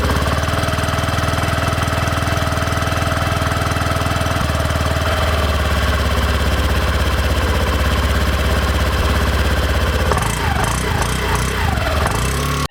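Honda Activa 6G scooter with fuel-injected engine starting quietly and settling into a steady, loud idle, a close, continuous mechanical hum and knock with a slight shift near the end, no talk.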